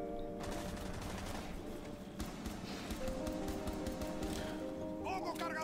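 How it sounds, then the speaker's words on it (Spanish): Rapid bursts of gunfire in Rainbow Six Siege, fired high toward the sky, rattle steadily through the clip beneath game music tones and someone talking. "Literalmente está disparando al cielo"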